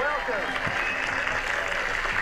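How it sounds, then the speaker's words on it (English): A 1990s infomercial studio audience applauds steadily at moderate volume, a soft continuous patter of many hands heard alone. "The audience is now applauding this person that they don't know"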